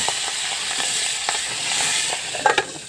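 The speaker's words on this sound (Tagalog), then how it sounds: "kaya prito na lang natin" Squid fries in a pan, a steady close sizzle and crackle with a few sharper spatters near the end.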